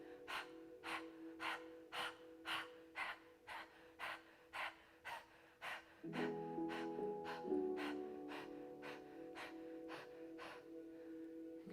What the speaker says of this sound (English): We're going to take another sharp, quick 20 breaths.